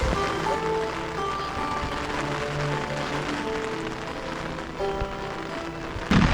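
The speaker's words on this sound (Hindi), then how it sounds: "बारिश की बूंदों की आवाज़ आपको आ रही होगी" Steady rain patters continuously on a surface in a Pakistani village, a dense even hiss of drops with no voices, briefly louder near the end.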